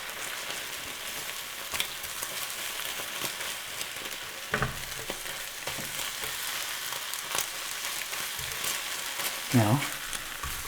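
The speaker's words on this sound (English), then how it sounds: "Better get our spatula here and give it a good stir." Food frying in a pan, a low steady sizzle with a few scraping spatula strokes and clinks as it is stirred, close by.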